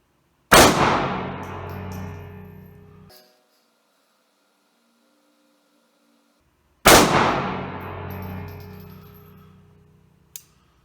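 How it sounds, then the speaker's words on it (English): Two sharp, loud shots from a Bersa Thunder 380 Plus pistol fired outdoors from an improvised rest, several seconds apart, each ringing out with a long decaying echo, followed by a faint metallic clink. "Just going to shoot from this improvised rest."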